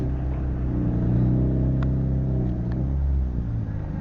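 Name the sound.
race cars reversing into grid spots at Cadwell Park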